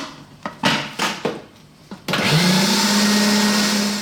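A food blender whirs loudly and steadily after some knocking and handling as the lid goes on, churning chickpeas and tahini into hummus with a constant high-pitched motor drone.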